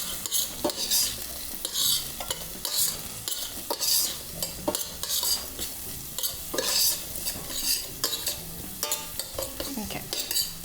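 A spoon stirs a beet mixture with cream, milk, salt and pepper in a pot, producing repeated scraping and clinking strokes in an irregular rhythm against a low sizzling background, close and moderately loud.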